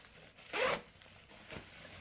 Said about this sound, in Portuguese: E uma coisa legal sobre essa mochila é que ela tem muito zíper.